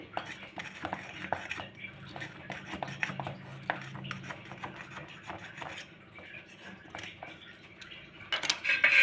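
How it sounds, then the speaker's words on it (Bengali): A knife scrapes and rasps around the sides of an eggless vanilla sponge cake in its metal pan after baking in a pressure cooker, with repeated close scraping strokes and light metallic clinks, louder toward the end. "এইভাবে চাকু দিয়ে সাইডে আগে ছাড়িয়ে নেব আস্তে আস্তে করে"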